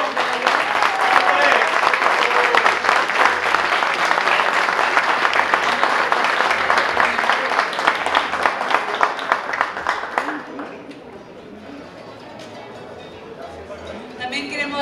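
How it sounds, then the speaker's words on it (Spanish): A crowd applauds at a wine awards ceremony, sustained hand clapping for about ten seconds before dropping away into quieter room sound with faint voices. "Un aplauso para la última."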